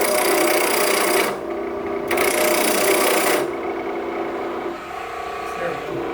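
Wood lathe spinning at 2,000 RPM while a tool cuts a wooden top, steady motor hum under loud raspy scraping that starts and stops in bursts as the tool touches the piece.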